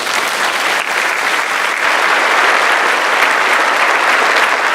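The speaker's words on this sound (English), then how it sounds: "Please join me in recognizing those students with a large round of applause." Dense, sustained applause from a large audience at a high school graduation ceremony, loud and even throughout with no voices on top.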